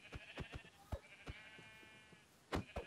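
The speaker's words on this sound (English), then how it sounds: "I'm gonna get the sheepies." Sheep in Minecraft bleat in short repeated calls, several close-range bleats spaced irregularly over a steady background game tone.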